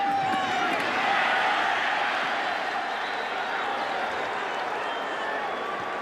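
A restless football stadium crowd in Jacksonville murmurs and stirs in a broad, steady roar that holds at an even level across the clip, with no clear cheers or claps standing out.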